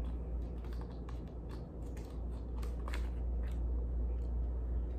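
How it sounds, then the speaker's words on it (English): Steady, fast typing on a computer keyboard, with close, crisp key clicks in an uneven rhythm running through the whole clip over a low background hum. "I'm gonna just type it out right here"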